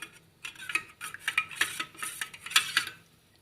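A metal spoon scrapes and clinks against a pot as horse gram (kollu) rasam with ground curry leaves is stirred, a close, busy run of rhythmic scraping strokes with no voices.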